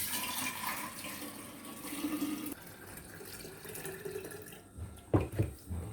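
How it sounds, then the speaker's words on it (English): Tea pouring into a glass kombucha jar at home, a steady running-water pour that softens midway, then a few louder splashes and sloshes near the end, close by. "And we pour the tea in."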